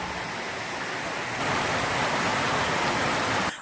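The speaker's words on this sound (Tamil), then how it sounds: "எங்கள் ஊரில் வந்து பார்த்தீங்கன்னா செம மழை ஃப்ரெண்ட்ஸ் தெரியுதா பேய் மழைன்னு சொல்லுவாங்கள்ல" Heavy rain pouring down in a small town, a dense, continuous hiss of downpour that swells slightly louder partway through and stays close and unbroken.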